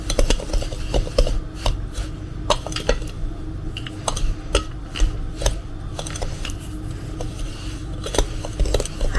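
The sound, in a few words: mixing cheese and olive filling in a bowl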